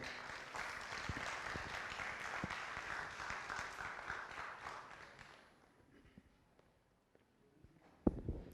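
An audience applauding at a music launch event, a dense crowd clapping that holds steady for about five seconds, then fades to near quiet, with a single sharp knock near the end.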